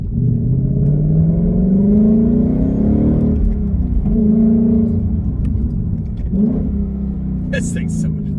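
A Ford Mustang S550 is driven, and its engine drones loudly and steadily from inside the car, with the pitch rising and easing as it accelerates and a brief clatter near the end.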